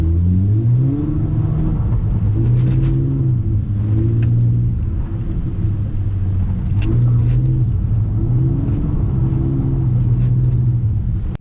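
Turbocharged drift car with a limited slip differential cornering hard, its engine a loud, deep droning rumble rising and dipping in repeated surges as it's whipped sideways, close and continuous with no talk.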